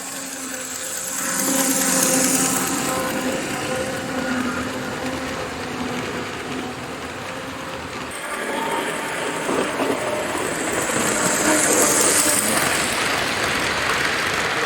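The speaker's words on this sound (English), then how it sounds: "The engine is struggling a bit with this train. It sure has a classic toy-like sound." A TYCO Rocky Mountain Line toy train engine with a pancake motor strains to pull its train, giving a loud, continuous whining buzz that rises and falls in pitch as it runs, close and alone.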